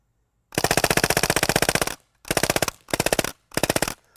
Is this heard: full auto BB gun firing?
yes